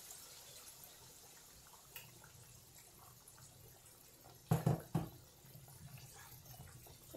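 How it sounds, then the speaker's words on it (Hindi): Water is poured into a pot of browned mutton qorma for braising, a short splashing pour that stands out briefly from quiet kitchen background with no talking. "अब मैं इसमें डाल दूंगी तकरीबन 2 से 3 cup पानी गोश्त गलने के लिए"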